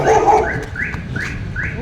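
A dog barks in a quick series of four or five evenly spaced, fairly close barks on a cold, foggy road in Jaipur, with a low rumble of background noise underneath.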